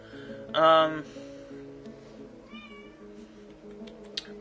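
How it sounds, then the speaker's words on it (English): A cat gives one clear, close meow, followed later by a softer, shorter meow amid quiet background music. "Hi, kitty. Meow."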